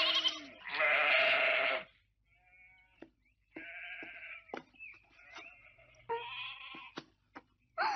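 Sheep bleating in a cartoon, several drawn-out, loud bleats with short gaps, and a longer call at the start.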